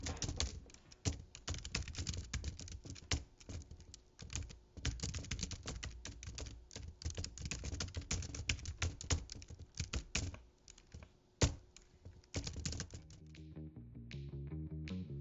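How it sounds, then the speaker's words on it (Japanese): A warped mobile keyboard for an iPad Pro, with its body wobbling and rattling, is typed on rapidly and continuously in a close, dense clatter of keystrokes. A few short musical tones follow at the very end. "一応実際のタイピング音を聞いてみましょう。"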